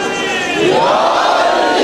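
A large crowd at a Muharram religious gathering shouts a slogan in unison, a loud swelling roar of many voices rising together in one brief chant.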